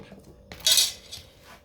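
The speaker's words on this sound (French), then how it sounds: "désolé pour le bruit avec la règle en métal quand je balance" A brief metallic clatter, like a metal ruler rattling against a hard surface, one sharp jangling burst over quiet room noise.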